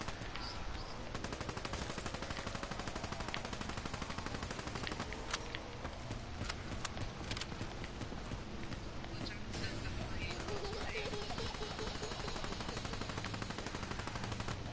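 Gunfire in a PS4 video game, with rapid, repeated shots crackling over a busy game soundtrack at moderate level, continuous through the stretch, while a player talks faintly underneath.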